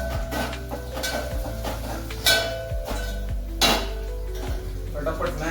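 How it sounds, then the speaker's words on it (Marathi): Onions mashed in a cooking pot with cumin and garlic, heard as repeated metallic scrapes and knocks of a utensil against the pot, with a couple of sharper clanks, close and steady, no talking. "फटाफट मॅश करून घेतो."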